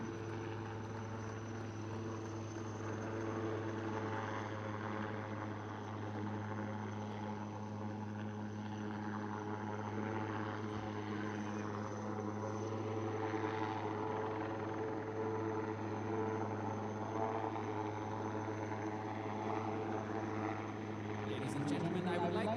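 An Advanced Light Helicopter Mark III drones steadily with a low rotor hum, loud and sustained throughout, with a crowd or announcer faintly underneath at a Beating Retreat and Tattoo ceremony.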